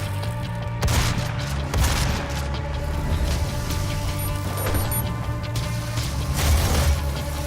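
Shotgun secondary fire from DOOM (2016), loud three-round burst blasts recurring about every second over a steady droning game soundscape.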